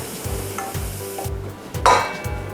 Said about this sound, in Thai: และสุดท้ายซอสปรุงรส เจียวให้หอมพอประมาณครับ